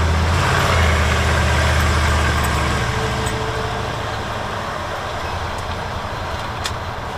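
A big truck rumbles and idles on a narrow street in the small town of Bishop, California. A deep, loud engine drone starts strong and then eases to a steadier, lower hum.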